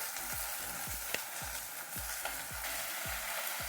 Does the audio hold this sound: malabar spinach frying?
yes